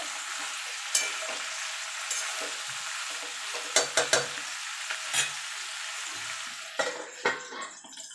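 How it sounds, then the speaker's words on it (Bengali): Brinjal being stirred with other vegetables in a frying pan, a continuous soft sizzle broken by repeated sharp clinks and scrapes of a spoon against the pan, close by, with no voices. "এবার একটু বেগুনের সঙ্গে বাকি সবজিগুলো একটু নাড়াচাড়া করে নেব"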